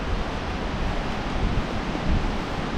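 Suiattle River rushing beneath a large trail bridge, a broad, steady roar of water with constant hiss and rumble, loud and unbroken without any talk.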